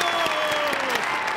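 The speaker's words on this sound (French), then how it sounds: "Bravo, on l'applaudit." Cartoon crowd applauding at a sports contest in a small firefighter town, dense continuous clapping for just over a second at steady, fairly loud level with a faint tonal line running beneath.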